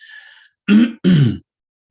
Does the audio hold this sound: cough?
yes